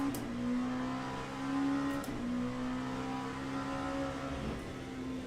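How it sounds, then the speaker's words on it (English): Race car engine in the Le Mans Ultimate racing simulator, a steady sustained drone with a brief shift-like dip near two seconds, droning on loud and close without any talk. "this car sounds a bit dull in reality, though. I don't think it sounds bad."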